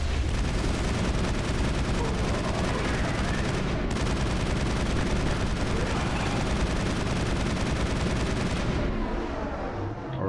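Dense, continuous gunfire and booming blasts from combat in the video game Mass Effect 1, including a container being detonated, loud and unbroken throughout before cutting off at the end.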